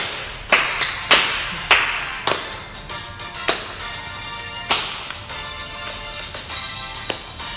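Several people clap along at home during a live session: scattered sharp claps, some single and some in quick pairs, sounding fairly close over a faint background of music or room noise.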